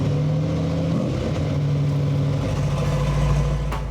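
A 1963 Corvette Stingray engine runs steadily while driving, with a low, throaty hum and a slight shift in pitch partway through, close and loud with no talking.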